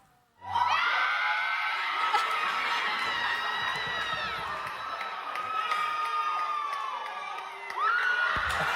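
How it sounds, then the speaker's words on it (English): At a wedding, as the couple share their first kiss at the altar, a crowd of girls bursts into loud, sustained high screaming and cheering that holds for several seconds and swells again near the end. "who was that screaming in the background?"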